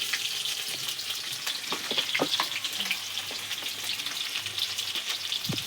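Chopped onions with asafoetida fry in a hot pan, a steady close sizzle with occasional scraping clicks from stirring, continuous and fairly quiet throughout.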